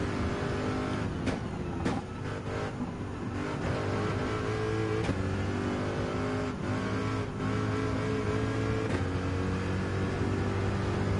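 A Chevy Corvette C7 Group 3 race car in Gran Turismo 7, its engine droning steadily at high revs with smooth pitch rises and shifts, accompanied by other cars' engines and faint tire noise.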